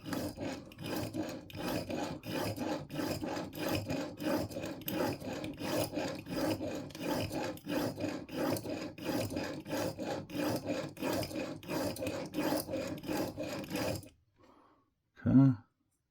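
A broadhead arrow tip is sharpened to raise a burr, with steady rhythmic rasping strokes repeating close and clear for about fourteen seconds, followed by near silence and a brief voice.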